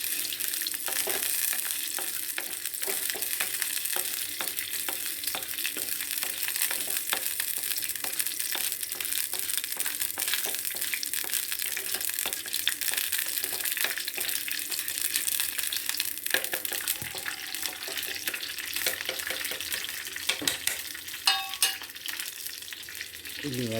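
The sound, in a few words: fenugreek seeds frying and stirred in hot oil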